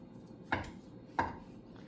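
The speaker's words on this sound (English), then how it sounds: "try to cut as much of this fat as you can off" A knife trims fat from a pork tenderloin on a cutting board, giving two sharp, close chopping knocks about two-thirds of a second apart over a quiet background.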